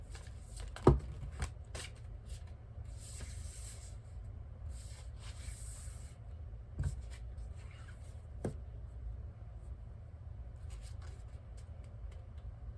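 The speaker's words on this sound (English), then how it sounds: "They're telling me to keep shuffling." Tarot cards are shuffled and rubbed together close up in soft, continuous swishing, with a few sharp taps and snaps along the way.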